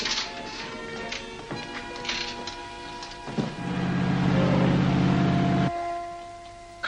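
A motorboat engine runs with a steady low throbbing drone that grows louder midway and cuts off abruptly near the end, with ticking and mechanical clatter around it and no talk.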